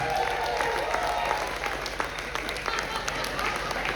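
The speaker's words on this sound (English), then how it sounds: "Round of applause going loud, going crazy for Don with Don's Family Vacations" Cruise ship audience aboard the NCL Breakaway applauds for Don with Don's Family Vacations, a loud, steady wash of clapping and crowd noise lasting about four seconds, with voices mixed in.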